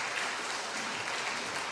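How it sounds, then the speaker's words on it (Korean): Church congregation applauding during a sermon: a full, steady wash of many hands clapping together, loud and unbroken, with no talking over it. "박수 쳐도 좋아요."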